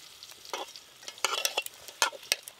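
Jackfruit mixed by hand with ginger, cumin, dried chilli paste, sour yogurt and mustard oil, giving quiet, irregular wet squelches and slaps in short bursts, with no voices.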